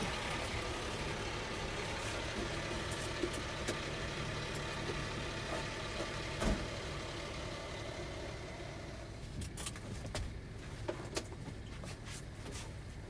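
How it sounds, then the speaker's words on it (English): A truck idles close by at a truck stop, a steady low engine rumble filling the whole stretch with faint clicks and rattles on top and no talking. "he decided he wanted to pull his loud ass truck up next to me so I can't hear nothing"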